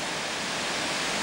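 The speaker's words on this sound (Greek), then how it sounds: "Βλέπετε έναν καταράκτη μικρό" A small waterfall on the Livaditis trail in the mountains roars in a steady, dense rush of falling water, close and loud with no pauses.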